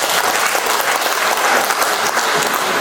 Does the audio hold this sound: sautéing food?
no